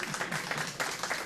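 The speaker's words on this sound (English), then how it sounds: "Round of applause." Applause for the cook at an appreciation and recognition reception for King Salim Khalfani, a brief burst of steady clapping from a small gathering, fairly quiet and with faint voices mixed in.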